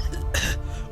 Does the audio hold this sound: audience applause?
no